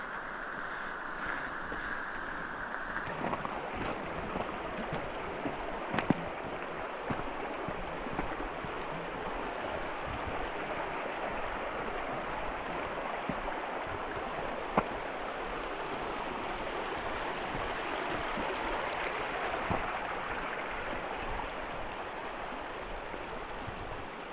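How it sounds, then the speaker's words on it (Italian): A mountain stream in the Dolomites rushes continuously near the listener, a steady broadband watery roar mixed with gusty wind buffeting the microphone, with no voices throughout. "L'acqua rilassa."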